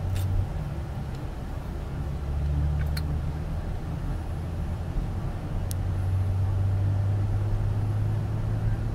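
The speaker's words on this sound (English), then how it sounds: "Toyota Sienna van." A Toyota Sienna van with about 37,000 miles cruises along, giving a steady low engine and road rumble with a constant tire hum inside the cabin and no talk.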